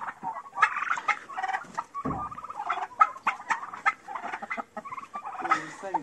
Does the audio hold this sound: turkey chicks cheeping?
yes